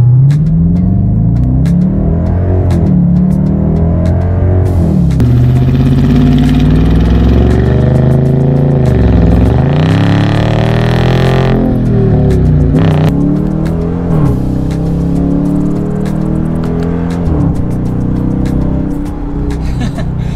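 A 2020 Dodge Charger Daytona RT with sport mode on and launch control off accelerates hard from a standstill, its engine roaring loud and close with rising revs broken by gear shifts across about twenty seconds.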